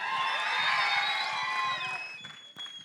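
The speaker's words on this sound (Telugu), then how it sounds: "ఒక్కసారి శివేంద్ర గారి కోసం గట్టిగా చప్పట్లు" Crowd cheers and whoops at a film's 100-day celebration event, with tonal shouts over a dense, steady roar that fades toward the end.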